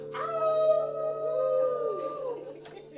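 A person imitates a dog's howl, a long wavering tone that rises, holds, then slides down and fades out.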